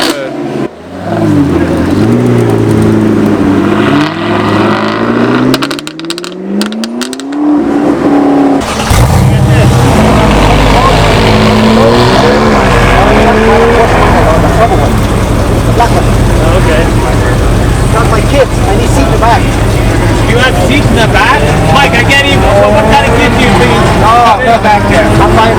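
A Lamborghini Aventador SV with an aftermarket exhaust revs hard and loud, a rising scream that drops off, then after a short break becomes a sustained roaring, crackling drone that runs to the end.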